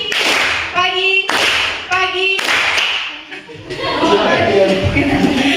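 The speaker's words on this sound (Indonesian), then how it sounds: "Jadi kalau Ibu bilang pagi, kita tepuk 1 kali." A classroom of children claps in unison during a call-and-response clapping game led by a teacher. Sharp broadband group claps land between stretches of the teacher's voice and children's chatter, with an overlapping, busier burst near the end.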